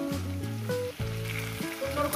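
Cauliflower sautéed in oil in a pan for a rohu fish curry, a close sizzle under a few scraping stirs and clinks, no voices.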